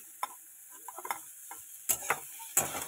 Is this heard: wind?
no